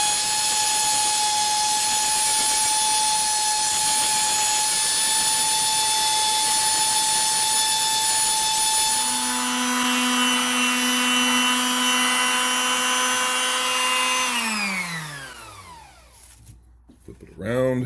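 Steady whirring and rubbing as a metal piece is sanded and polished through successive grits, a continuous tonal hum that shifts partway through before winding down to near silence at the end.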